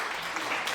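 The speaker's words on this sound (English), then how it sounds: "Everybody give applaud." Applause from a streamer's online audience, heard as a brief burst of dense clapping that holds steady for under a second.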